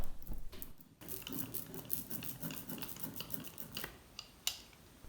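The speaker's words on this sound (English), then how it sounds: "Once you roll and your ink starts to sound like this" A roller working lino printing ink across a slab, giving a sticky, crackly tacky rolling sound in quiet, repeated strokes with occasional small clicks.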